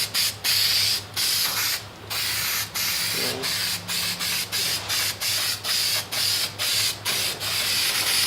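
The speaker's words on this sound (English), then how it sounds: "wherever you sprayed, kind of go halfway and spray on the other half" Repeated short hissing bursts from an aerosol can of spray adhesive, about a dozen quick sprays in an irregular rhythm, close and fairly loud.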